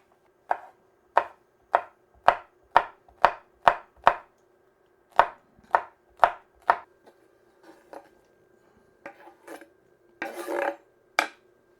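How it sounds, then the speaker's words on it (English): A knife chops red and green chilies on a board in a quick run of about a dozen sharp, close taps, then a pause and a few scattered, scraping cuts. "the chilies that I'm gonna just chop up"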